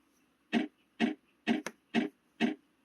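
A DIY pinball machine soundboard, triggered by a 555 timer clock signal, gives six evenly spaced sharp ticks about half a second apart, close and clear against near silence.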